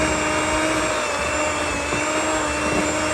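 An electric mixer beats eggs into pumpkin gooey butter cake batter with a loud, constant motor whine and hum that stays steady throughout.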